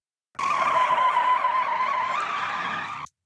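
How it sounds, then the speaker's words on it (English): A car's tires skid in one continuous screech lasting about three seconds, loud and steady with no other sound, as a stock sound effect used in a radio ad mix. "we'll grab the car skids from the clip list, plonk them on there"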